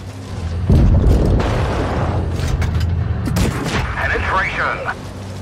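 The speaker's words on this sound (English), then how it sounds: "Enemy armor is hit. Penetration." Tank cannon shells slam into enemy armor in World of Tanks Blitz, loud booming impacts followed by crackling rumble and metallic ringing, with a voice calling out over the action.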